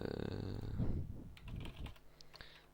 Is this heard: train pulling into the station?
no